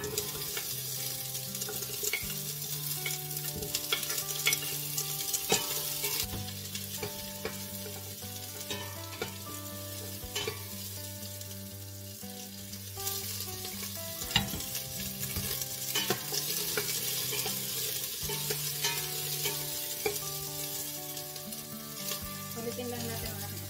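Onion sizzles and crackles steadily in a hot pan while being stir-fried for pork sinigang, close and continuous with occasional scraping stirs.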